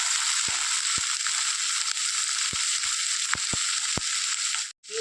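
Sliced onions roast with salt in a pan for a drumstick-leaf lentil curry, giving a steady close sizzle with faint scrapes and soft taps from stirring, and no talking.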